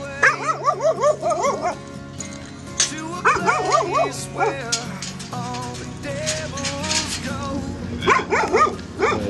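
A military working dog at a Marine operating base in Sangin Valley, Afghanistan, barks repeatedly in bursts of close, loud yips and bow-wows, with faint whimpers between them and a voice murmuring in the background.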